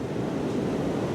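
Steady roaring wind gusting outdoors beside a beehive on a mild, high-wind January day, a continuous broadband rush that fills the short clip without letting up.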